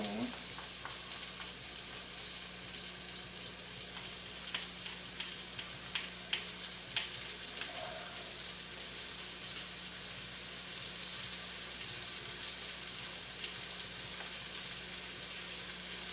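Salted tomatoes frying in a hot pan give a steady, continuous sizzle with small scattered pops and crackles, heard close and with no talking.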